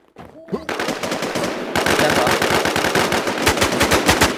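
Rapid automatic gunfire from the online survival shooter Infestation, loud and continuous, with bursts of shots fired close by and a brief voice at the start.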